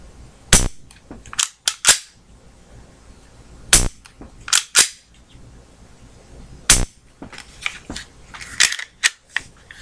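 A Glock pistol is dry-fired, giving sharp, loud, close trigger clicks and snaps spaced a few seconds apart, with smaller handling clacks of the slide and parts between them.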